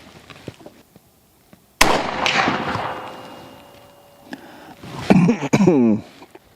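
A muzzleloader rifle fired from a bench rest gives one sudden loud blast with a long rolling decay, followed a few seconds later by close coughing and throat clearing.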